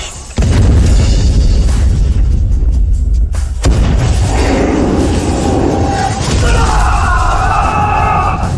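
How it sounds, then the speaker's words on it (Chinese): An electromagnetic railgun fires a salvo in a fantasy drama battle scene: a loud blast hits almost at once and rolls on as a heavy, sustained rumble through the whole stretch, shifting in tone partway through. "电磁轨道炮第一轮起射！"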